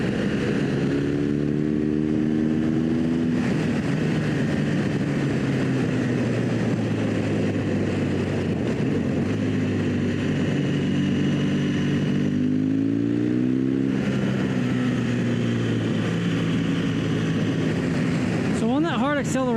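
A motorcycle on Michelin Anakee Adventure tires accelerating hard, the engine droning loudly and continuously as it climbs through the revs, easing between gears and pulling again, with wind noise throughout.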